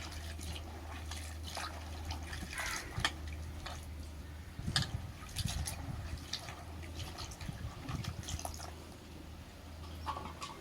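Tomatoes are washed in water, with soft splashing, dripping and sloshing close by, a steady low hum underneath and a busier burst of swishing midway, no voices.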